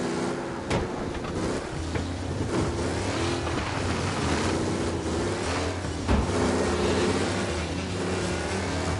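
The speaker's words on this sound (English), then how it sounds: "reporting a race car driving at speed through the city" Race car in Mafia Definitive Edition speeding through city streets, its engine roaring and revving continuously up and down through gear changes, loud and close throughout.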